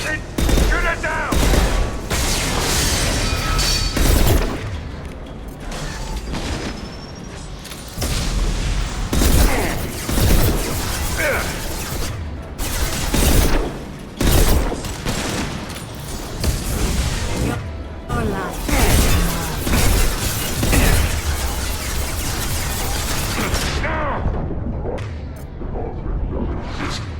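Near-constant loud gunfire and booming explosions in Mass Effect 2, with dense sustained volleys throughout, brief lulls and whooshes between bursts, and talk heard over the combat.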